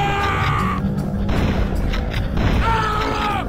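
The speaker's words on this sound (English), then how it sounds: "The shotgun here feels very light, like it's made of toilet tubes or something" Shotgun blasts from Turok: Dinosaur Hunter on the Nintendo 64, a couple of booming shots with mechanical clacks between them, set among screeching creature noises from the game.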